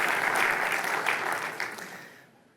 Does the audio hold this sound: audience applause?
yes